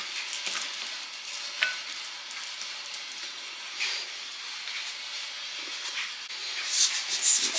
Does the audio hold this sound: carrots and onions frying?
yes